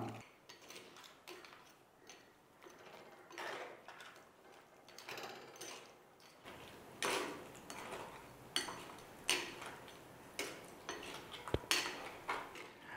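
Crab roast is stirred in a pan with irregular metallic scrapes and clinks of a spoon against the pan, quiet and close.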